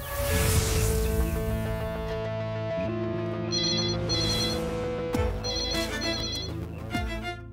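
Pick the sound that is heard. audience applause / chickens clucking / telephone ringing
telephone ringing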